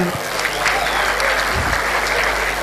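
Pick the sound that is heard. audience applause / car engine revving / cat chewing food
audience applause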